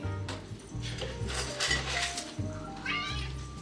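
A cat meows at feeding time in a home kitchen, several rising calls standing out over a steady background hum and light clinks of dishes.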